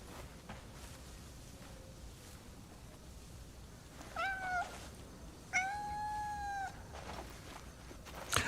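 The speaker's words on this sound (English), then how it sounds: "Oh yeah, short-haired cat." Two short-haired cat meows from the Crimson Desert video game, a shorter call then a longer drawn-out one, heard fairly clearly over a quiet ambient background.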